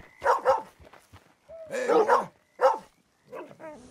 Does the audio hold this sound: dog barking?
yes